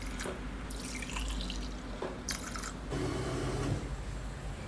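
Water is poured into a pot of chicken biryani masala, a steady splashing, trickling pour broken by short bright clinks and splashes.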